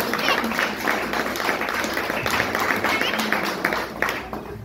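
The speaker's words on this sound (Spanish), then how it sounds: "Den un aplauso a Jesús." A church congregation applauds during a sermon, a dense steady wash of clapping running the whole time with mixed voices and cheers underneath.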